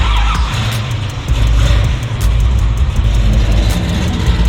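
A 1966 Chevy Nova's engine with a 750 carburetor and headers rumbles loud and close, a heavy, steady idle with a slight dip midway.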